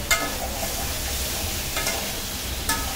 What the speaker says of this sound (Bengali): এবারে আমি নেড়ে কষিয়ে দেবো।